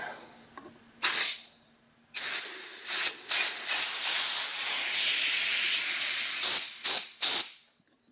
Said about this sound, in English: I like to blow the tube up a little bit and get it to form a bit